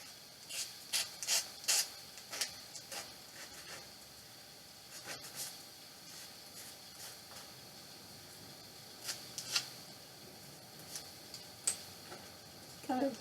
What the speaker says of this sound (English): This is my Gator sander. It's 120 grit, and we are just going to just kind of sand up the edges just a little bit.